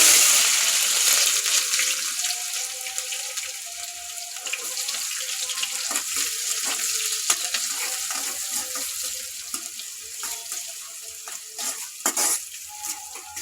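Onions fry in hot oil with mustard seeds and urad dal, making a bright, continuous sizzle that starts loud and eases slightly, broken by scattered stirring clicks and scrapes close by.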